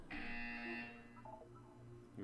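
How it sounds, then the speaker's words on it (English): A buzzer in the video game Portal 2 sounds as a loud, steady electronic drone for about a second, followed by quieter tones and a short burst at the end, faint game ambience underneath. "You will hear a buzzer."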